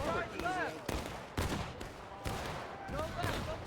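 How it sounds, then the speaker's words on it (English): Musket volleys crack out in a Civil War video game battle at Railroad Cut, several sharp reports spaced about half a second apart over a noisy battlefield, with a voice talking faintly underneath. "They're going to get a great volley here."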